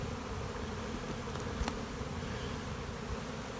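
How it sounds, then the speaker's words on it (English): Honeybees crowd a packed two-deep brood hive in spring, giving a dense, steady, close buzzing hum that holds evenly throughout with no voices. "2 stories of bees absolutely packed to the gills."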